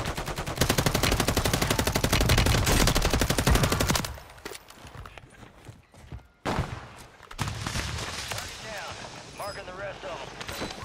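Sustained automatic gunfire from a video game rattles loud and close for several seconds, then breaks off into quieter scattered shots, rumbles and game noise, with a voice talking in places.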